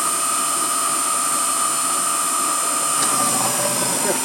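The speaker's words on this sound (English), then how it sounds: "Now you're going to drill the second hole." Continuous high-pitched whine with broadband hiss from an Emco F1 CNC milling machine drilling a hole in a control arm, steady and close, a faint scrape near the end as the cutter bites.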